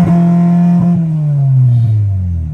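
A 2000 Honda Integra GSR with a B18C1 engine holds a sharp two-step launch-control rev, the loud buzzing tone stuttering briefly at first and then sagging gradually in pitch as it winds down, close and alone.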